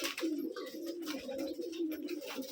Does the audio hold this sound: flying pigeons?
yes